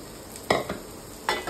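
Onion, tomato, coriander and coconut masala roasting in a pan, heard as two short scraping stirs of a spoon against the pan over a soft low sizzle.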